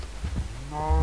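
Cow mooing in Minecraft: two short low grunting moos followed by a longer, louder droning moo, close and clear with no talk over it.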